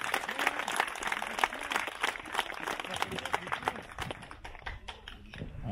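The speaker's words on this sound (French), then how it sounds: "Donc merci à eux et on peut aussi les applaudir." Audience at an adapted sports day event claps for the organizers, dense applause with many overlapping hand claps that gradually thins out toward the end, with some voices mixed in.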